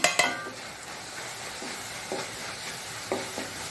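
Chili, coriander and cumin powders fry in a pan for a Mangalorean rajma and jackfruit seed curry, a faint steady sizzle broken by a few soft stirring scrapes and light clinks, near and without talk.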